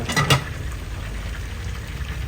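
Food fries in a pan, giving a steady, close hiss of sizzling oil with a couple of brief louder pops near the start and no voices.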